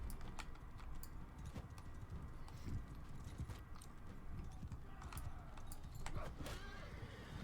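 Horse hooves clip-clop steadily through a mounted skirmish in Mount and Blade: Bannerlord, a continuous gallop of hoofbeats over a busy wash of game noise with occasional sharp metallic clinks.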